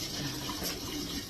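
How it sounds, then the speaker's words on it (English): Water pours steadily onto household plants being watered, a continuous close splashing gush with no talking. "Let me water my plants."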